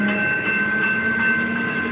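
A passing train at close range gives a steady, loud rumble with high sustained squealing tones from the rails. No voices are heard over it.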